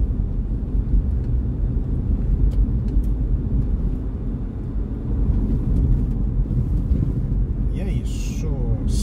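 A car travels along a main urban road in Fortaleza, Brazil, changing lanes, with a continuous low rumbling road and engine drone close by and a few faint higher clicks near the end.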